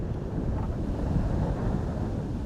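Surf and wind on a quiet beach in Cotonou make a constant close rumble, with broad hissing wash and gusting wind buffeting the microphone and no voices.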